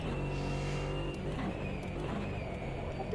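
A Ginetta G55 British race car in a racing video game drones with a steady, loud engine note at sustained revs, the tone shifting slightly as it drives on without pause.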